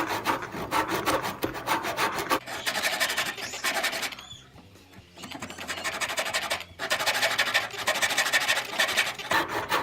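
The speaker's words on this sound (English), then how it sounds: "on the rail, we want to saw out first, just on the way side of the line." A handsaw cuts back and forth through a wooden stool rail, close and loud rasping strokes in two long bursts separated by a short pause, no talking.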